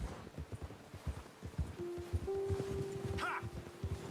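Horse hooves clip-clop in a steady walking rhythm on a path in the video game Red Dead Redemption 2, close and clear, with a faint tonal hum behind and a brief high sound near the end.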